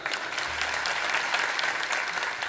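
A crowd applauding at a Marathi kirtan, a dense, steady wash of many hands clapping at once that holds at an even loudness throughout.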